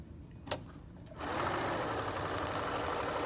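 After a brief click and a moment of quiet, a Bernina 330 sewing machine starts up and stitches steadily through nine layers of folded denim, a close, even mechanical chatter.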